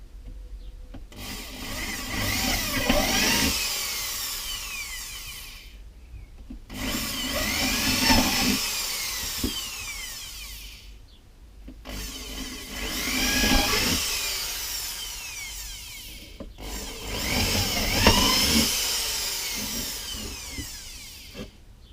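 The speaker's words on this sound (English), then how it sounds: "We'll pre-drill this one before we get it in situ." A power drill pre-drills holes in wood while a bait hive is being built, running in four long bursts of several seconds each with short pauses between, loud and close with no talk.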